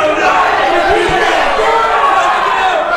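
Dense crowd noise at a live SWA wrestling show, a broad rumbling mix of voices reacting to a wrestler, with a couple of thuds early on and chatter throughout.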